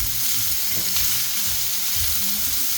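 Chicken and cheese schnitzels fry in grapeseed oil on a flat top griddle, giving a steady, close, dense sizzle with a soft crackle throughout and no voices.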